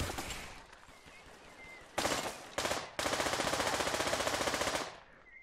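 Automatic gunfire in the virtual reality shooter Pavlov VR opens with short bursts, then a long rapid stream of shots, loud and close, before trailing off, with no talking.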